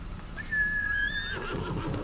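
A horse in Ghost of Tsushima gives a loud, drawn-out whinny that rises and wavers before trailing off, with faint hoof thuds and game ambience behind it.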